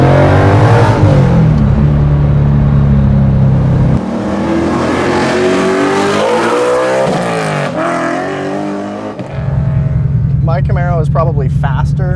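A 1965 Mustang Fastback pro-touring car with a Boss 302 engine drones and revs loudly, its pitch climbing and dropping through shifts, with a deep rumbling idle returning near the end.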